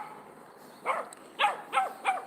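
A dog on a street gives four short barks, the first alone and the last three in quick succession, fairly close against a quiet background.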